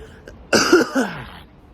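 A single harsh cough, close and fairly loud, with a throat-clearing quality, after a brief quiet moment.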